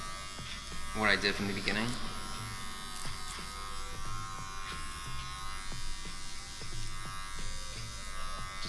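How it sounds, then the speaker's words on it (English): Electric hair clippers buzz steadily close by, cutting curly men's hair clipper-over-comb with a #3 guard in a salon fade, while someone talks briefly near the start. "I'm gonna go back over with a 3, but do clip over comb this time"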